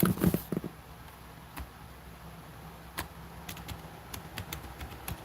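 Sparse, faint clicks of computer keyboard keys being tapped while typing a search, a few sharper isolated keystrokes over quiet room tone.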